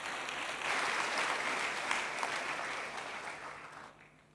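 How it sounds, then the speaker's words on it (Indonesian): A church congregation breaks into applause, a dense burst of clapping that swells quickly, holds, then gradually fades toward the end, with no speech over it. "Yang setuju kasih tepuk tangan buat Tuhan Yesus"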